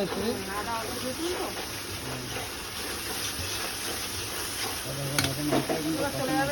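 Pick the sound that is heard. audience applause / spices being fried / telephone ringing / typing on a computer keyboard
spices being fried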